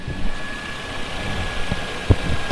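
A Toyota Land Cruiser 100 series engine idles steadily after a fuel filter change, a low, even rumble with a faint whine and an occasional light knock.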